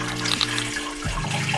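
Water is poured little by little over rose petals into a vessel, a close, gurgling trickle whose tone shifts in pitch as the container fills, broken by brief pauses.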